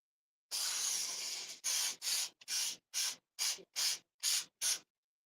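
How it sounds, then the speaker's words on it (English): Butter spray is sprayed onto vegetables: one long hissing burst, then eight short evenly spaced spritzes, close and crisp with silence between them. "I forgot to spray the veggies"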